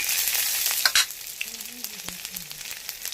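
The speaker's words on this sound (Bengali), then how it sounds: "এবার একটু পেঁয়াজ কাটা দিয়ে দেব পেঁয়াজটা একটুখানি নেড়ে" Chopped onion frying with white mustard seeds in a pan, a steady close sizzle with a few scraping stirs and faint pops throughout.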